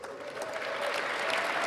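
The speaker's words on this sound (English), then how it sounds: "I'm going to clap for that, too." A crowd at the 2025 US presidential inauguration claps steadily, the applause swelling slightly louder over a couple of seconds.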